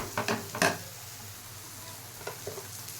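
A utensil stirs green jackfruit and prawns in a frying pan over a soft sizzle, with a few scraping clatters at the start and lighter scrapes near the end, close and fairly quiet, with no talking.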